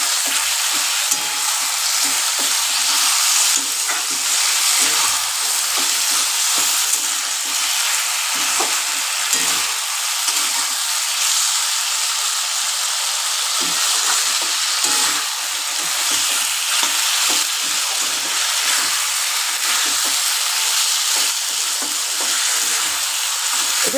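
Ground spices and masala for a rohu fish curry with potato and green banana sauté in a pan, a loud, unbroken hiss of frying that goes on for a long stretch, close and steady with only faint stirring underneath.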